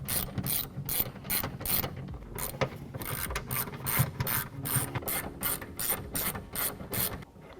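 A ratchet wrench loosening bolts on a 2021-2023 Ford Bronco soft top, rapid rhythmic clicking bursts repeating in quick strokes, close and clear with no talking.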